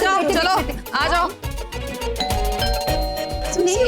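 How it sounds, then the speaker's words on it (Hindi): Doorbell chimes ring out during a lively indoor family scene in a Hindi TV drama, a tonal ding-dong sitting beneath overlapping speech and background music. "हे भगवान, ये कौन घंटी बजा रहा है?"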